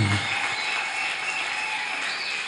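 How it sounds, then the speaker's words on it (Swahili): Steady applause from a church congregation during a night worship service in Kayole, a dense wash of clapping hands continuing throughout with a faint held tone beneath, no clear talking. "Makofi mazito kwa Yesu."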